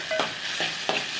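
Chopped carrot, beans and cabbage stir-fried in a pan for chicken Manchow soup, a bright crackling sizzle broken by three quick spatula tosses, close and fairly loud.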